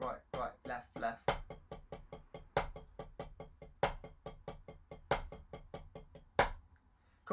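A para-diddle-diddle sticking pattern is played on a drum as an exercise, with loud accented strokes and much softer ghost notes in a steady, quick rhythm. Close and clear, with no talk over the strokes.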